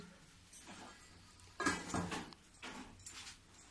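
A lid is set over a pot of beetroot kadhi with boondi in a home kitchen, giving a few soft metallic clinks and knocks, faint and close, with quiet pauses between.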